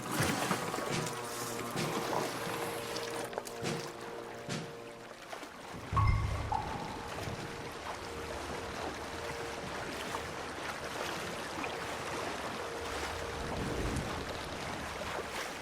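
Canoes paddled across dark channel water in a video game mission, a steady wash of water and gentle wind with soft splashes, heard alone after a brief musical passage at the start.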